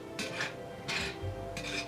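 A spoon scrapes and stirs cheesy cauliflower with bacon in a well-seasoned cast iron skillet on a cast iron stove, three soft raspy strokes up close, no voices.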